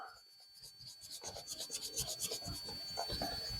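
Fine 600-grit sandpaper smoothing a high fret on a bass guitar, heard as a close, quiet run of rapid back-and-forth rubbing strokes in a steady rhythm.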